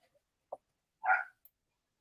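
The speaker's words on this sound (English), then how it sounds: "They're barking again." Small wiener dogs give a few short, sharp barks and yips, separated by silence, fairly faint and without talk.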